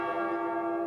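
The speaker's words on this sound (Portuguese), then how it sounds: "Toca o sino" A church bell rings in a sanctuary during a novena service, one sustained, resonant tone with rich overtones humming steadily and loudly throughout, alone without talk.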